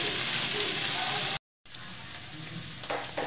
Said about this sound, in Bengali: আর এখানে আমার ডিম আর আলু সিদ্ধ হয়ে গেছে, এখন একদম ভাজা ভাজা করবো